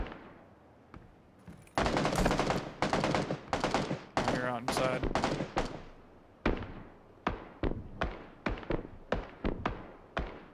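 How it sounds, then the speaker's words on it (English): Gunfire exchange in the battle royale game PUBG, with loud rapid bursts of automatic fire followed by a steady run of sharp single shots, all close and dominant, with a brief voice partway through. "All these shots right now, everybody's shooting at one another."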